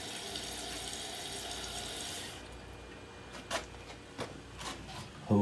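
Water runs into a temporary basement toilet bowl, a steady filling wash that lasts about two seconds and then drops to a faint trickle with a few small splashes and drips.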